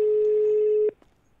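A telephone line sounds while a call is placed: a single steady electronic tone holds for almost a second, cuts off abruptly, and is followed by a couple of faint clicks.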